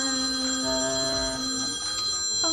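A telephone rings in a steady repeating electronic bell tone, loud and close, with no talk over it.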